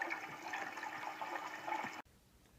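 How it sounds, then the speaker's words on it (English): An electric intercooler pump on a 2003–2004 SVT Cobra runs and circulates coolant, producing a soft, steady watery gurgle and hum that carries on evenly for about two seconds and then cuts off abruptly to near silence. "I'm just running the pump some more here to make sure there's no air bubbles in the system"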